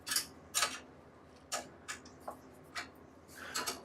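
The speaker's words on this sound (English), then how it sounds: "We're just going to loosen that spreader and slide it over out of our way." Open-ended 5/16 wrench loosening a spreader bar on a PFE 500 unit during a high-limit replacement, a series of sharp metallic clicks and ticks spaced irregularly, close and fairly quiet.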